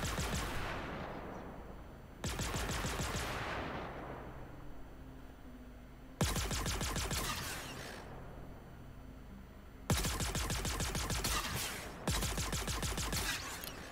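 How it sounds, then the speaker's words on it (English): Gemini F55 light machine gun firing in the Star Citizen game: five loud, rapid bursts of automatic fire, each ringing into a fading echo before the next one starts. "It doesn't feel like an LMG machine gun until you pull the trigger."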